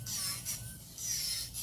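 A file rasps quietly back and forth across an acrylic nail to smooth it, in a few short, even strokes with brief pauses between them.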